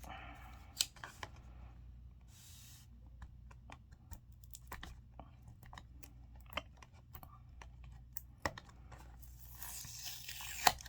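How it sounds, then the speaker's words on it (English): A cardboard box of Arteza classic pencils is ripped open, giving faint, scattered tearing and crinkling clicks with a few sharper snaps over a low background hum. "I'll rip the box."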